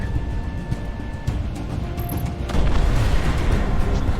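Explosions rumble in the Project Wingman flight combat game, heavy low booms over steady jet and engine noise, with a bigger blast swelling in the second half.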